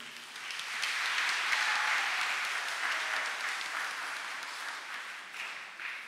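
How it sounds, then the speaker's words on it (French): A congregation at a Catholic Mass for Saint Mary Dominic Mazzarello claps for the choir and musician, a dense, even wash of applause that swells early and then slowly thins out. "Je vous demande de les applaudir, s'il vous plaît"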